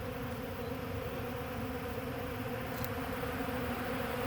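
Honey bees swarm a backyard feeder near tilted hives, their steady buzzing hum filling the air continuously and fairly loud, with no voices over it.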